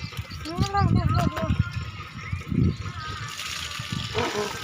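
Water is poured over a child being bathed on a hot day, splashing in loose bursts beneath near constant talk, with a steadier rush of pouring toward the end.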